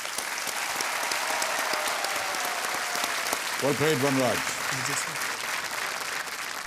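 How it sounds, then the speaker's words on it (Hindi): Studio audience applause on the Hindi quiz show KBC, a steady wash of clapping that fills the whole stretch, with a host's voice speaking over it partway through. "तालियों के साथ इनका स्वागत करते हैं।"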